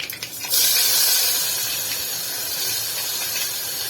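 Bay leaves and chopped onion hit hot oil in a pan while cooking khichdi, setting off a loud, steady hissing sizzle that jumps up suddenly and holds strong, close and alone.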